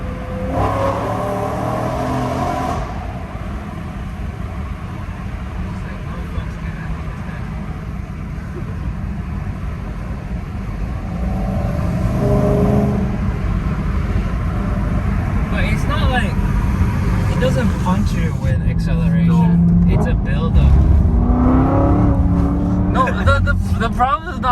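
A BMW E90 M3 with a custom exhaust accelerates from inside the cabin, its engine note droning and rising in loudness, with people talking over it.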